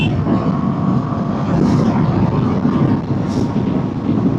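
A motorcycle cruising on a highway at night, steady engine drone mixed with loud wind rush close to the rider, no speech over it.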